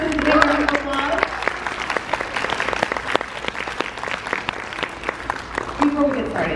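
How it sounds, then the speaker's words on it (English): A crowd at a first-grade school math contest claps loudly for the contestants, with a steady mass of hand claps and a voice speaking briefly at the start and again at the end. "Let's give all of our contestants a big round of applause."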